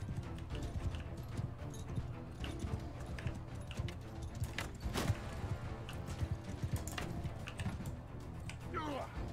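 Many horses gallop across a battlefield in Mount & Blade II: Bannerlord, a steady dense clatter of hooves with clashing and voices mixed in throughout.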